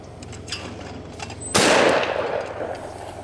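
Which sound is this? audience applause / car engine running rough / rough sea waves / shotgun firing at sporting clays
shotgun firing at sporting clays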